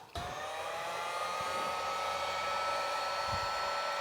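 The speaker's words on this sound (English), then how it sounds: "Go get your heat gun from the other side of the shop." A heat gun blows a loud, steady stream of hot air at a heat shrink hose clamp on an S10's rear-mounted radiator cooling system, starting abruptly and holding an even whine.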